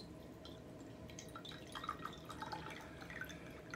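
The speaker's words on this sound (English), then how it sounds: "We just pour them, both of them, into the" Brewed Japanese green tea, Karigane and Kukicha, trickles faintly into glasses, giving a soft continuous pour with light splashing and drips against a steady low background.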